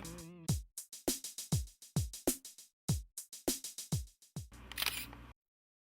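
A rapid series of sharp mechanical shutter clicks from a Canon XT DSLR camera, about a dozen in quick uneven succession, close and crisp, ending with a brief burst of noise.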